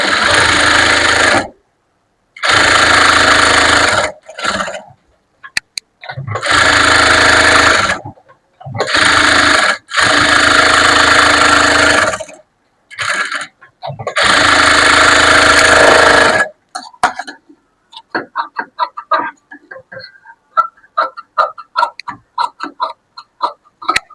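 A sewing machine stitches all around the edge of a piece of fabric in loud, rapid bursts separated by short pauses, followed by softer clicks and taps at the end.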